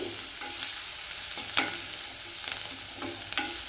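Onions and green chilli paste fry in a pan for beetroot palya, a steady close sizzle broken by a few sharp spatula scrapes and knocks against the pan, with no one talking.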